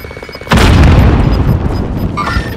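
A Call of Duty frag grenade detonates in one sudden, loud boom, followed by a long rumbling decay that fades over the next two seconds amid game ambience.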